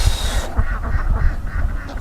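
Ducks on a farm where about 1300 are raised on a wetland, giving a quick run of close, raspy quacks over a low rumble.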